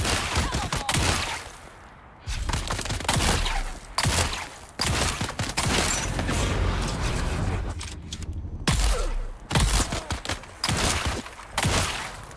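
Pump shotgun blasts and other gunfire in the video game Dune Awakening, loud booming shots coming in bursts with brief mechanical clatter between them and some talk underneath.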